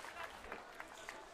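Audience applause at a peace march programme on Swachh Bharat Abhiyan, rising as the mayor of Chandigarh is called to the stage: a steady wash of clapping from a seated crowd, with a few sharper bursts and a voice mixed in.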